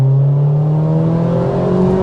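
A Ford Fiesta ST150 Mk5 hot hatch engine drones loudly from inside the cabin while accelerating, its steady low tone rising gradually in pitch; distinct exhaust pops are not clearly audible.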